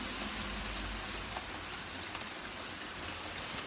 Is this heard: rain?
yes